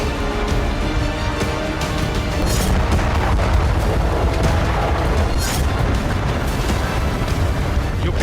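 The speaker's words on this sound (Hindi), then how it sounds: "रूस ने यूक्रेन के 10 शहरों पर फास्फोरस बम से हमला किया।" Phosphorus bomb explosions in wartime Ukraine, a dense, continuous roar of heavy rumbling booms and bursts heard loud and close, with a few sharper cracks standing out over the din.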